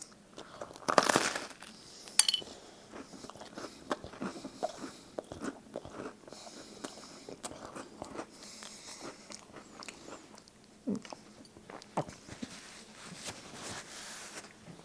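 Crunchy bites and chewing on a microwaved s'more with graham cracker, barely melted chocolate and a partly soft marshmallow, a sharp crunch near the start followed by quieter, close crackly chewing with no talking.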